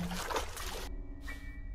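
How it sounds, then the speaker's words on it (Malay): Water trickling and pouring in the horror game Granny, a short splashy stream that cuts off abruptly, followed by quiet room tone with a faint hum. "Bunyi air, kau dengar?"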